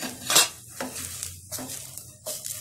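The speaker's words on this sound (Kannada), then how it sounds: "ಒಂದು 3/4 ನಿಮಿಷದಿಂದ 1 ನಿಮಿಷದಷ್ಟು ಮೀಡಿಯಂ ಫ್ಲೇಮ್ನಲ್ಲಿ ಸ್ವಲ್ಪ ಫ್ರೈ ಮಾಡ್ಕೊಳ್ಳಿ" Onion rava dosa fries in oil on a pan over a medium flame, heard as a soft steady sizzle broken by several short scraping strokes of a spatula against the pan.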